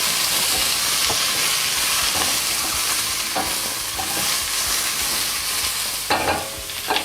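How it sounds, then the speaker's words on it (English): Onions frying in extra virgin olive oil in a Dutch oven give a steady, dense sizzle throughout, close and loud, with a few stirring knocks and scrapes near the end and no talk. "Little extra virgin olive oil. In go the onions."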